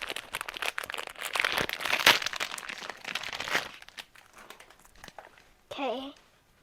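Plastic packaging around a stress ball toy is cut open, giving loud crinkling and crunching close by, then quieter rustling, with a voice talking partway through.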